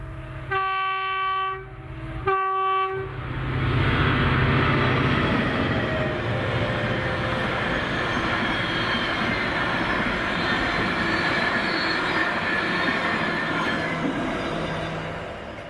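A freight train hauled by a pair of Class 68 diesel locomotives passes at Carstairs. Two sharp two-tone horn blasts sound first, then a loud, sustained rumble of engines and rolling wagons builds and carries on steadily.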